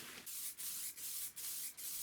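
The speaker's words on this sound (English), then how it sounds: "I did some gentle wet sanding in between coats of varnish with some 400 grit" Rhythmic strokes of 400-grit sandpaper wet sanding varnish on a wooden cabinet top, about five even back-and-forth passes on a smooth surface, close and soft with no voices.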